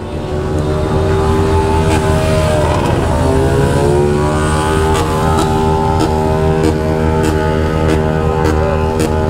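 A BMW S1000RR sport motorcycle's engine revs loudly and close by, a steady high-pitched roar with a dip and rise in pitch midway, sustained throughout with no one talking.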